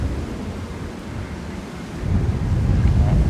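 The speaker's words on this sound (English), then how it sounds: "Oh, wind is picking up." Wind gusts across the open ground at Manchester Airport, a steady rushing roar buffeting the microphone that swells noticeably louder partway through, with no talk.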